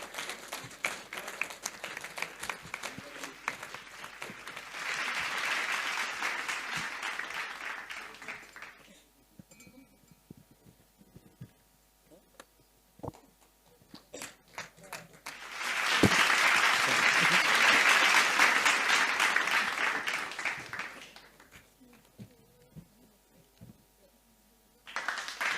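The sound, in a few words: audience applause at a medical conference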